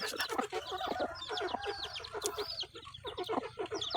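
Several chickens cluck and chatter close by in a busy, continuous flurry of short calls.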